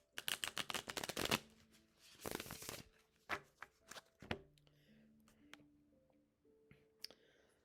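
Tarot cards shuffled in the hands in fast riffling bursts for the first second and a half, another burst a little later, then scattered soft slaps and taps with faint tonal hum underneath; no talking.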